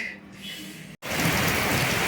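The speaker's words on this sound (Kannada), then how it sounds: "ನೋಡ್ರಿ ಪುಣಾದಾಗ ಮೊದಲು ಮಳೆ ಬರ್ತಾ ಇರೋದು ಈ ವರ್ಷದ ಮೊದಲ ಮಳೆ ಮುಂಗಾರು ಮಳೆ" The first monsoon rain of the year falls in Pune, starting after a brief cut as a loud, steady, close hiss of downpour that follows a quieter opening.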